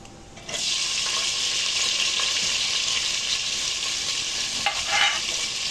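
Long-sliced onions fry with peanuts in a pan for a quick vegetable pulao, giving a steady, close, broadband sizzle that holds evenly with a few brief stirring clatters.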